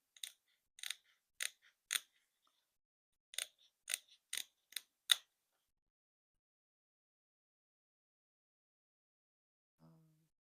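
Sharp, close scissor snips from straight cuts made while beading: about eleven quick cuts in two bursts over five seconds, then near silence.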